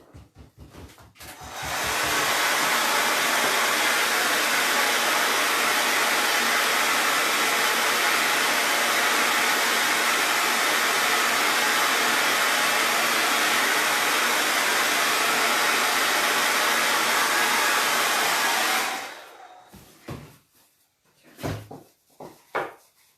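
Hair dryer blowing on a paper craft project with a vintage angel stencil, a loud steady whoosh running close for about seventeen seconds before clicking off, followed by a few soft handling knocks.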